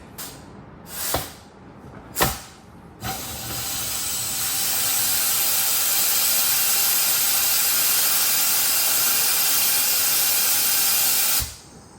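Flush spray blown through a transmission cooler line on an engine-swapped C6 Corvette Z06 with 94,000 miles: two brief sharp bursts, then a loud continuous hiss lasting about eight seconds before it stops abruptly.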